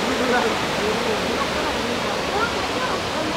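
A waterfall and flowing water in the Jaintia Hills of Meghalaya give a loud, steady broadband rush that fills the whole clip with no break.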